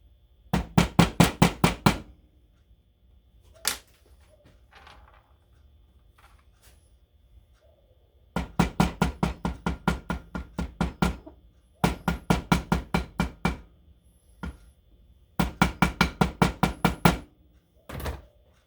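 A ball peen hammer strikes in quick rhythmic bursts of about six to eight sharp, ringing blows, each volley separated by pauses with a few lone taps, sounding close and crisp.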